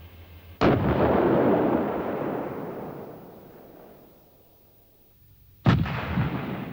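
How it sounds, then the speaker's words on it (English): An IKV-91 tank's Bofors low-pressure 90mm gun with a fume extractor fires twice, each a loud sudden blast with a long rumbling decay, about five seconds apart. "IKV-91 is a Bofors low-pressure 90mm gun with a fume extractor in the middle of the barrel."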